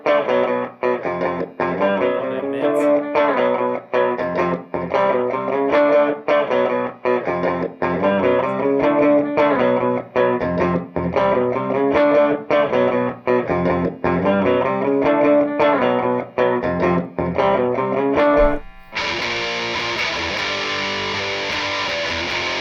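Distorted electric guitar playing a looped riff through an amp, loud and continuous with rhythmic chord strums, ending in a sustained buzzing feedback-like drone.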